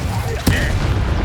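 A single sharp burst as the Incendio fire spell goes off in Hogwarts Legacy, cutting through a steady din of battle ambience and followed by a brief airy whoosh.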